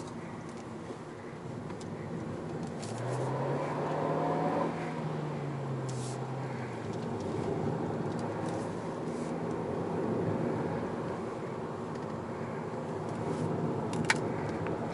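A 2019 Kia Ceed engine hums steadily from inside the cabin, its pitch sweeping upward then settling as it accelerates on kickdown, with a constant low road and wind rumble.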